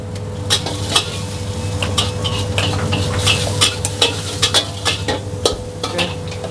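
Seafood fries in a wok over a lowered flame with a steady close sizzle, broken by frequent sharp clinks and scrapes of a spatula against the metal, with no talking.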